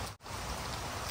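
Steady rain pours down with a dense hiss of drops hitting surfaces, close and continuous apart from a momentary dropout near the start, and no one speaking.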